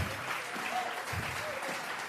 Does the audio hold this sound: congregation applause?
yes